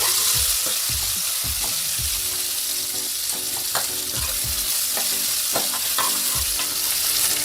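Two medium chopped onions fry loudly in a pan with ginger and green and red chilies, a dense close sizzle broken by repeated stirring scrapes and thuds throughout.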